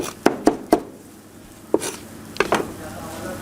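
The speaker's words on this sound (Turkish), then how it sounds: "bana bakarak orada soğan doğruyorsun" A knife chopping onions on a cutting board: three quick taps, a pause, then a few more sharp chops, close and crisp.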